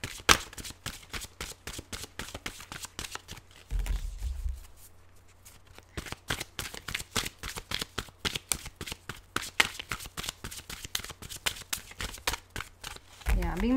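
Tarot cards are riffled and shuffled in rapid, crisp flurries, pausing briefly before the shuffling resumes, close and clear.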